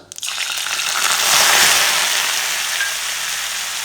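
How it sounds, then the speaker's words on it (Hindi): Ground onion paste hits hot oil after cumin seeds, with a loud burst of hissing, crackling sizzle that swells within a second, then settles into a steady close frying roar. "अब एमा डाल देबो संगवारी मन जो पीस के रखे प्याज तेला।"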